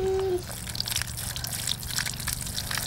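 Water sprays steadily from a Nemo Helio pressure camping shower, a continuous close hiss and patter that runs the whole time without letting up.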